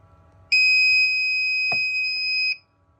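A Nurture Right 360 egg incubator's timer alarm sounds a steady, loud electronic beep tone lasting about two seconds, with a brief click partway through, alone in a quiet room.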